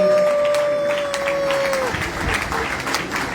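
A church audience at an evening worship concert claps and cheers in acclamation; loud, dense applause breaks out partway through, after a sustained held tone, and carries on to the end.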